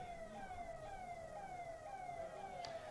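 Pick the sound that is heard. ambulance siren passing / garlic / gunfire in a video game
ambulance siren passing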